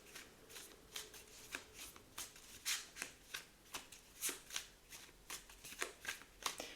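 Playing cards being handled and drawn, a quiet series of crisp flicks and snaps spaced roughly every half second, close and soft, with no talking.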